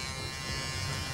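A voice imitates Mr. Bean shaving with an electric razor, producing a steady, close, continuous buzzing drone that lasts about a second.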